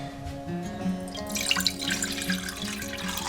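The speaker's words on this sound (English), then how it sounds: "the first thing we're going to add to a small saucepan is our cup of water" Water runs and splashes into a small saucepan, a continuous close pour that grows brighter and fuller midway, over a faint steady background hum.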